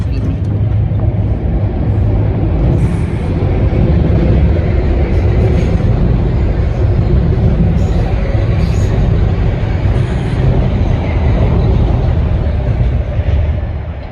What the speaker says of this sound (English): Here goes the train to Danbury, Connecticut.